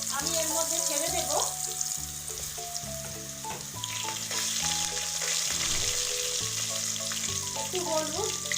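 Potatoes dropped into hot oil with bay leaf and whole cumin, during a Bengali koi fish curry, sizzle and fry steadily under music, with stirring and a few clatters.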